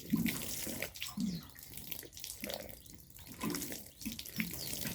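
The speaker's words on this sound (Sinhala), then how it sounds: "මෙහෙම තමයි වතුර දාන්නේ" Water pouring from a watering can onto guava seedlings, a gentle running splash in uneven pulses, close by and fairly soft, with no talking.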